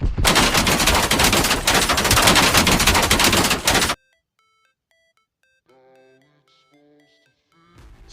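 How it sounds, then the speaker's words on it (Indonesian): Dense, continuous gunfire from a fighter plane strafing a car full of passengers in a film scene bursts loudly for about four seconds, then cuts to near silence with faint electronic beeps and tones. "sebuah tembakan dari pesawat tempur mengenai semua penumpang yang ada di dalam mobil tersebut"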